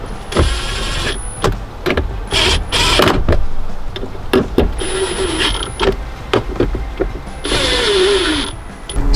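A power tool drives four 8mm screws during a side curtain airbag and module install in a Toyota Tacoma, giving repeated short, loud whirring bursts up close, with no talk.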